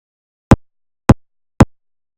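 A kick drum sample trimmed down to its transients for building a riddim snare: three short, punchy, dry thumps spaced about half a second apart, each cut off abruptly, with silence between and no talking.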